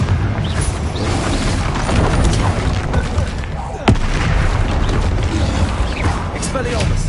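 Repeated Confringo fire-blast explosions in Hogwarts Legacy combat, heavy booming blasts and crashes layered with a sharp crack midway, continuous loud battle noise beneath occasional spoken voices.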